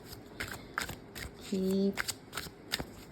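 Tarot cards are shuffled and drawn with a series of sharp, close snaps and flicks, while someone speaks briefly in between.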